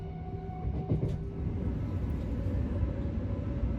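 Steady interior rumble of a Great Western Railway Electrostar electric train heading to Reading, with a continuous low roar and faint motor tones and no talk.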